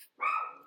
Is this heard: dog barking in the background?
yes